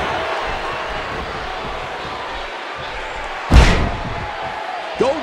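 One heavy thud of a body slam in the wrestling video game WWE 2K15 lands midway over steady arena crowd noise, followed by a smaller thump near the end.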